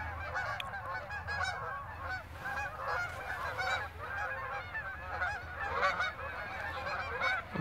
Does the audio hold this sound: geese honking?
yes